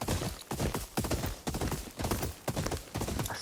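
A horse gallops across terrain in Ghost of Yotei, hooves pounding in a fast, steady rhythm of close, loud thuds, with no talking over them.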